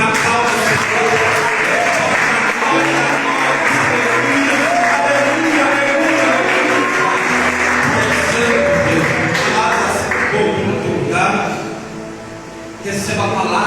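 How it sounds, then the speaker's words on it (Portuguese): A church congregation at an evening family worship service applauds in a sustained, dense wash of clapping that fills the room and then tapers near the end, with a voice speaking and music-like tones running underneath. "Aquele que pode aplaudir na palma do Senhor."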